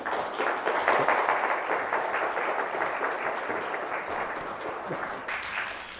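Audience members at a university lecture forum in Seoul clap after the talk, a thick, continuous round of applause that stays strong before easing off slightly toward the end.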